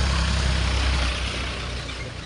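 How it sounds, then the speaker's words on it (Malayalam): A family's vehicle pulling away on a rain-soaked road, a steady close engine rumble with broadband road noise that fades slightly as it moves off. "ഞങ്ങളുടെ വണ്ടിയാണ് കുഞ്ഞു പോണേ."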